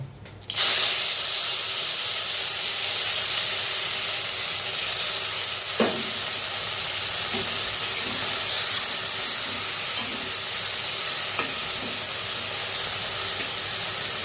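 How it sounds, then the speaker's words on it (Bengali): Dried shrimp fry in hot mustard oil with a loud, continuous sizzle after a sudden start as they hit the pan, broken by occasional soft taps of a stirring spoon. "তো তেলটা গরম হয়ে গেছে চিংড়ি শুটকিগুলো ছেড়ে দেব"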